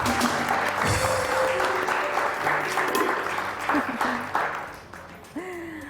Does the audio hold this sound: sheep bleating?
no